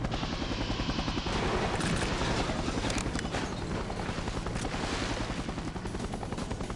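A helicopter in the N64 video game 007: The World Is Not Enough gives a loud, steady rhythmic rotor chop that fills the whole stretch, with some mechanical clatter mixed in.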